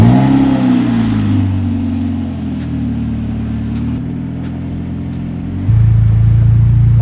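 A DF Goblin kit car's engine revs and accelerates while driving, a loud close mid-pitched drone that climbs, settles through a gear change, then surges again near the end, with no talking.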